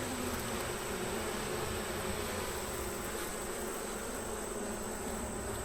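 Honeybees in an opened hive, drones among them, fill the air with a steady, dense buzzing drone that holds at an even level throughout, close and continuous with no pauses.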